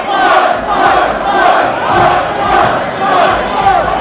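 Wrestling fans at an underground pro-wrestling show chant together in a loud, rhythmic crowd roar that swells and falls in regular waves, filling the arena without any clear single voice.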